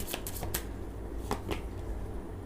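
Tarot cards are shuffled by hand in several quick riffling bursts, close and fairly soft, with brief crisp snaps as cards are drawn and no talking.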